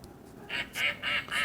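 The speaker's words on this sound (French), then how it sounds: "Les canards." Four quick quacks from a children's sound book, ducks beside a pond, played in an evenly spaced sequence, close and bright over a faint room background.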